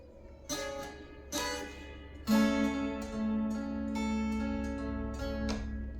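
Acoustic guitar chords for a song: several strummed chords ring out in sequence, a couple of sharp attacks followed by a held chord that sustains and is restruck, played close and alone.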